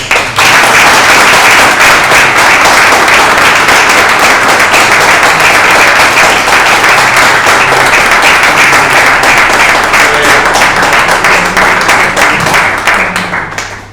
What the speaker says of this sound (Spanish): Yo seguía dando los aplausos